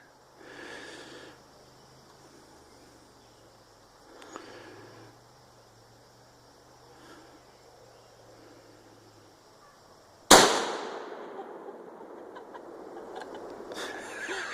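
A single sharp M44 rifle shot cracks at an outdoor shooting range, loud and close, with a ringing tail after it. Quiet breathing and small handling noises come before the shot.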